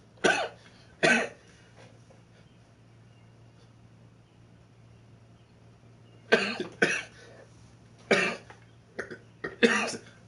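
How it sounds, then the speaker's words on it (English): Someone coughs and burps at once, a few sharp bursts early on and a denser cluster of loud, close hacking near the end over a low steady hum. "I tried to cough and burp at the same time."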